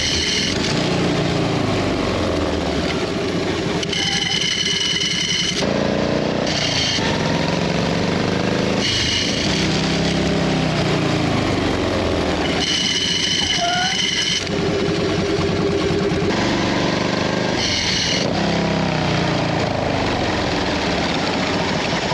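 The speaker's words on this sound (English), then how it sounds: "what we're going to practice is incorporating engine braking with your rear brake" A motorcycle engine revs and drops repeatedly, its pitch falling as it slows, in a loud, steady run of deceleration cycles.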